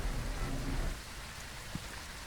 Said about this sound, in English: The cracking thunder and downpour of rain set the tone for this investigation.